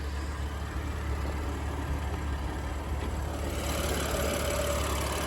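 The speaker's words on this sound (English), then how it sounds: "what we got here is an M-Power engine, S55, 3 liters, 6-cylinder" BMW M2 Competition with its S55 3-liter six-cylinder engine idling under an open hood, a steady low rumble with a faint whine and hiss, unbroken and moderately loud.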